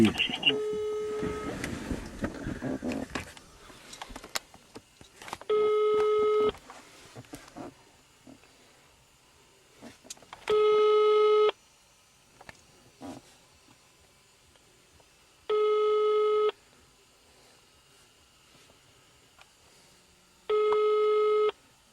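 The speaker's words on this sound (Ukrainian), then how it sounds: "зараз абонент не може прийняти. Ну, дзвоню опять в" A phone call at a traffic police stop gets a busy signal: four loud, evenly spaced tone bursts, each lasting about a second, follow a stretch of voices and background noise at the start.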